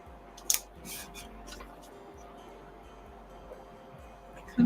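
Tape pulled and torn off a roll while making a scrap wood scarecrow leaner, a short sharp rip near the start and another at the very end over a steady low background hum.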